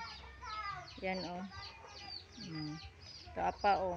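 Backyard chickens cluck close by in a series of short, throaty calls, while a person talks quietly under the hens.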